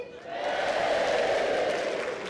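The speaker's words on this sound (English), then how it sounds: "Can we clap and cheer?" A crowd at an indoor bowls championship claps and cheers together on cue, with a sustained swell of applause and voices rising quickly and holding steady for a couple of seconds.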